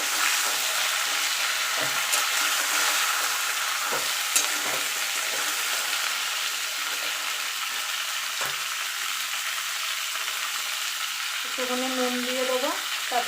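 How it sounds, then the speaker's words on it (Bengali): Radish and spinach stir-fry in a pan, a steady loud sizzle running throughout with occasional scraping stirs of a utensil against the pan. "ভালো করে সবজিগুলোকে একটু ভেজে নেবো"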